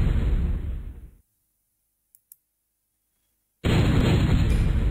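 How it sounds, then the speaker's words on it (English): An airstrike explosion in MechQuest: a loud broadband blast fades out within a second, then near silence with two tiny ticks, before another heavy blast bursts back in at full loudness. "Affected by airstrike."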